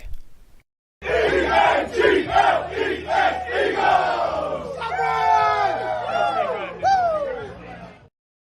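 Philadelphia Eagles fans chant and roar "Go Birds" in a loud crowd. Rhythmic shouted chants are followed by rising, sliding whoops and cheers before the noise cuts off abruptly.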